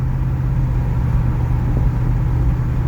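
A 2004 Buick Rainier engine idles in a steady, smooth low rumble that stays constant and close for the whole stretch, with no talking over it.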